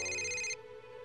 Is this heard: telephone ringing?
yes